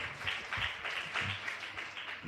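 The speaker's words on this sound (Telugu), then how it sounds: "చప్పట్లు కొట్టండి ఒకసారి" Audience clapping at a church sermon, a steady wash of applause from a gathered congregation that runs through the whole moment at moderate loudness, with faint voices mixed in underneath.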